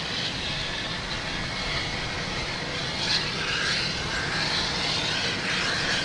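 A Delta airliner taking off from runway 15 right at Boston Logan Airport at night, a broad, distant jet roar that swells slightly as it climbs away, with no voices.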